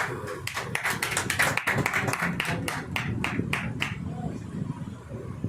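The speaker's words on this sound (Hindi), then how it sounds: "जी भाई के लिए एक ताली होनी चाहिए।" An audience at a Hindi-language seminar hosted by a cow-care organization claps briefly, a loose scattering of distinct hand claps that thins out and fades after a few seconds, with murmured voices beneath.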